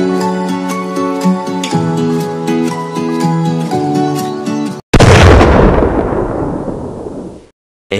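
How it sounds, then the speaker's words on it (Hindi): Small firecrackers packed into a burning Ravana effigy at a Dussehra celebration go off together in a sudden, loud crackling blast that follows music and then fades quickly. "तो हमने छोटे छोटे पटाखे लगाए थे"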